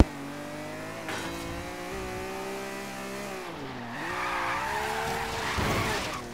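A car drifts in the video game Forza Horizon 3, its engine droning steadily while the tires skid and squeal, the squeal growing louder and harsher toward the end.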